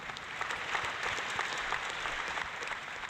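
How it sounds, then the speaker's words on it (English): Canned applause effect played back from a computer on a retro VMS/UNIX terminal setup, a steady dense wash of clapping lasting about three seconds at moderate level with no talking over it. "I can do you an alias for applause if you want, Ben."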